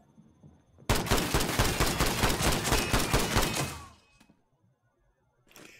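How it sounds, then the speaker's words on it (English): A drum-fed shotgun fires in the video game Sniper Ghost Warrior 3 as a rapid, loud string of blasts lasting about three seconds, then a couple of quieter thuds and a short sound at the end. "The upside of drum-fed shotguns."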